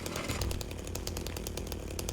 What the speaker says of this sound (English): I love how much the chainsaw completely trivializes the enemies in this.